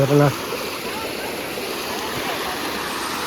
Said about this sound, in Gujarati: જો ઝરણા કેવા જાય